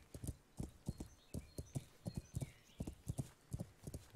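Horse hooves clip-clopping in the video game Kingdom Come: Deliverance, a steady rhythmic trot of sharp hoofbeats, fairly quiet and heard without talk.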